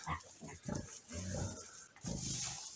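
A sow with newborn piglets grunts and squeals in repeated loud bursts at close range, with short pauses between calls and no talk.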